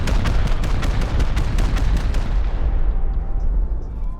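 Rocket blasts pound through a base in the video game Rust, a rapid run of about a dozen heavy booms for two seconds before the rumble fades into a quiet tail, with no talking.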